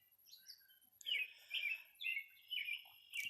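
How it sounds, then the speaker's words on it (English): A bird sings outdoors in a quiet setting, repeating short bright chirping phrases about every half second, clear and fairly close. "so you will hear birds singing in the background."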